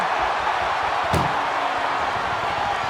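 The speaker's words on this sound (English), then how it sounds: "at least slam one door shut" A single loud slam as an ambulance door is forced shut in the wrestling video game WWE 2K25, cutting through a steady roar of arena crowd noise.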